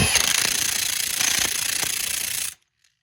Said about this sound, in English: just go ahead and tighten it up with the impact